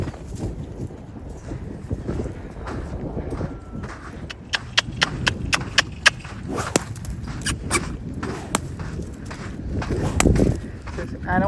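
Loose horses move around an arena during a desensitizing exercise, their hooves clip-clopping in irregular, sharp knocks under steady wind noise, with a person talking throughout.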